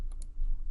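Two quick, light computer mouse clicks land close together near the start, crisp and close, against a low background hum with no speech.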